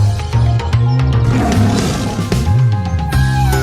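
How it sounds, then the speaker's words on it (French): Loud, close tiger roar in a children's jungle song, with a deep growling rumble that swells and rolls over backing music, and no voices. "C'est un tigre."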